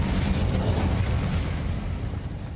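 An Incendio fire spell bursts in Hogwarts Legacy, a loud, rumbling whoosh of flame that fills the sound briefly and then tails off slightly.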